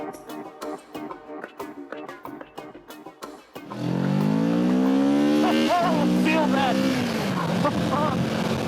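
A Kawasaki Ninja 650 motorcycle engine revs up loudly and closely, the pitch climbing smoothly through the gears after a stretch of softer engine burble, heard out on a countryside road.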